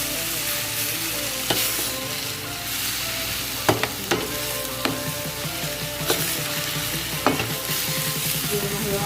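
Sheep liver, cooked Arabian style, sizzles and fries steadily in a pan with a few sharp clacks of a utensil stirring, all close up with no talking.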